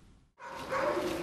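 Dogs barking at an animal shelter in Cluj, a sudden burst of barks after a brief silence, close and loud with echoing kennel noise behind.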